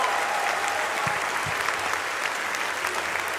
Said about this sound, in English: Give a big round of applause for every FurryCon, not just Anthrocon.